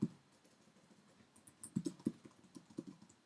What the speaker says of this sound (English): I'm going to just type in something explaining what we're doing here